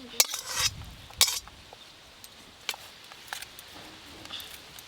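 A spoon scrapes and clinks against a pan while cooked potato filling mixed with chopped coriander leaves is tipped out, giving a few sharp metallic knocks followed by softer, sparse scraping.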